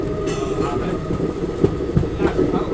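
A train hauled by an electric locomotive passes on an Indian railway line, a loud steady rumble of wagons with a few rhythmic wheel clunks over the rail joints.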